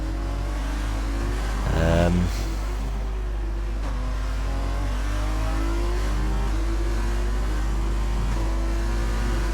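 Engine of an F2 race car in a video game, a steady mid-pitched drone that briefly revs up and shifts once early on, then holds on under a low constant hum.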